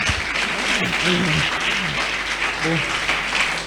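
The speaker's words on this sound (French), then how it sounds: "Acclame pour toi." An audience claps and cheers at a charity event, a steady wash of applause lasting the whole stretch, with voices speaking and calling out over it.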